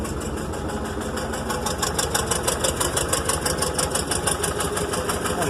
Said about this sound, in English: And the engine feels like it's working a little bit harder.